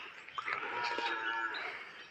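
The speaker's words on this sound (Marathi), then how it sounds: "आपलं वासरू पण ओरडतंय." A calf moos in a long, drawn-out call on a chilly Konkan farm, clear and fairly close, with no talk over it.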